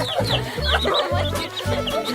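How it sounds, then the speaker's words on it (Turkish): Young chicks cluck and peep in a quick, busy chorus close by, with soft chirping layered over low rustling. "Bakın bunlar gerçek tavuklar. Çok küçük ve kabarık."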